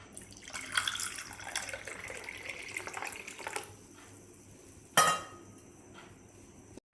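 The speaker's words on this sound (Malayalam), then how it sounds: "ടീ ഒഴിക്കാം." Iced lemon tea is poured into a glass over ice cubes, a steady splashing stream for a few seconds, followed by a sharp clink of glass and ice.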